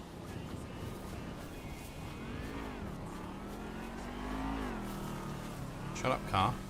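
A car engine in GTA V revs and whines, rising and falling in pitch over a steady road hum, with a couple of sharp bursts near the end and voices faintly underneath.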